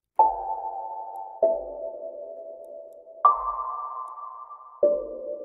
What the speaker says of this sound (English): this piano sound right here is so cool